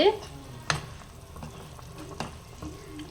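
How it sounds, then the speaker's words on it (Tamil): A pot of pepper and cumin kuzhambu bubbles on the stove with soft, scattered pops and burbles that break a faint, quiet simmer a few times. "குழம்பு வந்து நல்லா கொதிச்சிருச்சு"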